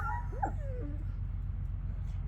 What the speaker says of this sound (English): Then they're like, what are those things barking at us?